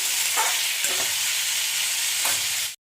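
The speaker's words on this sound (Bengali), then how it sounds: "এদিকে চলো আলু ভাজাটা করে দিই" Potatoes fry in a hot pan with a loud, continuous sizzle that stays steady, then cuts off abruptly at the end, with no voices over it.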